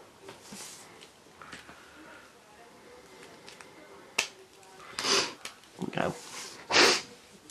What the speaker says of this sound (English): Excuse me sniffling